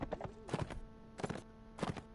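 Horse hooves clop in the video game Mount & Blade: Warband, with three quick bursts of double-beat trotting footfalls at a steady pace over a faint background hum.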